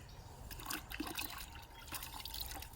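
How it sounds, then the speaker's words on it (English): Water running and splashing as freshly caught fish are rinsed off, a soft, uneven trickle with small splashes, fairly quiet and with no voices. "Rinse them off."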